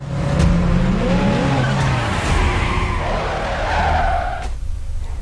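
A car in a film scene revs hard and accelerates, its tires skidding and squealing loudly across the whole stretch, with rushing road noise and a sharp screech near the end.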